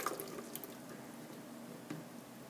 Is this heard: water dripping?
yes